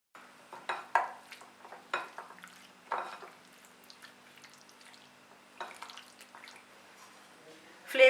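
Chicken pieces being mixed with tandoori masala and salt, making soft, intermittent scraping and clinking strokes that come in short bursts at close range, with quiet gaps between them and a sharper knock at the very end.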